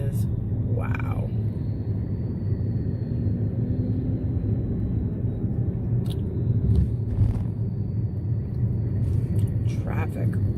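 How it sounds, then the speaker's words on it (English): Road traffic in heavy congestion makes a steady, loud low rumble around a car, with passing engine swells and brief higher hisses throughout. "Traffic, wow."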